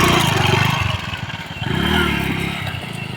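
A motorcycle starting up and revving nearby, its engine rising and falling in a rough throaty drone with some clattering, loud and close.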